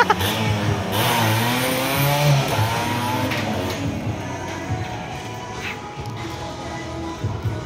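A Suzuki TS 100 100cc motorcycle is ridden, its small engine revving up and easing off in uneven surges under a rush of wind noise, fairly close.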